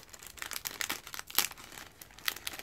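A small plastic sachet being opened, crisp crinkling and rustling in irregular bursts with a couple of sharper crackles, close and fairly quiet.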